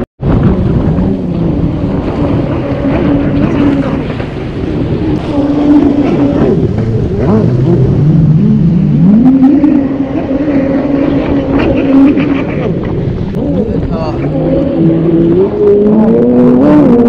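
A 1100 Super Chicken boat's engine runs at speed on Lake Havasu, a loud, steady roar with shifting pitch as the throttle changes, mixed with continuous wind and water rush the whole way through.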